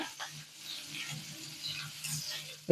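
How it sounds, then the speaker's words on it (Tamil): Potato frying with green chili and ginger gives a soft, steady sizzle close by, fairly faint throughout, with a low hum underneath and a sharp knock at the very end. "பச்சை மிளகாய் இஞ்சி எல்லாம் எடுக்கணுங்க காரமாக இருந்தால் தான் டைஜஸ்ட் ஆகும் நல்லா ஃப்ரை பண்ணிக்கோங்க"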